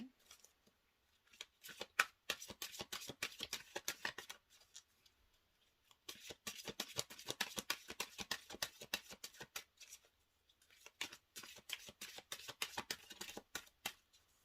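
Oracle cards are shuffled by hand in three long bursts of quick, crisp riffling flutters with short quiet gaps between, soft and close with no talking.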